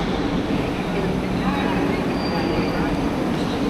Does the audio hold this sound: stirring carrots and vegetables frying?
no